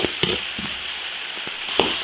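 Garlic, chili sauce and Sichuan peppercorns stir-fried in a hot wok, a steady close hiss of oil with a few sharp spatula scrapes and clinks scattered through.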